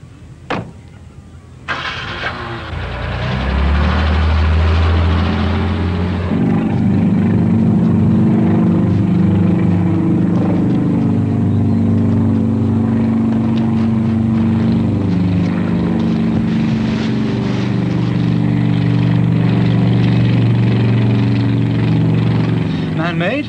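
A loud, steady helicopter drone with low rotor rumble, starting after a short quiet moment and holding close and constant throughout.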